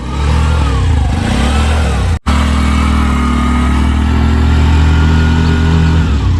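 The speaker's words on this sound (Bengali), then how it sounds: "এই যে দেখেন ইঞ্জিনের সাউন্ড।" A Bajaj CNG auto-rickshaw engine running on LPG idles steadily and loudly up close, a constant low throbbing drone with one very brief dropout partway through.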